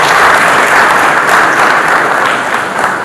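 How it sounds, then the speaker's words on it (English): An audience at a mortgage bank's annual general meeting gives a loud, sustained round of applause, many hands clapping densely and evenly without pause from start to finish. "I think it deserves another beautiful round of applause"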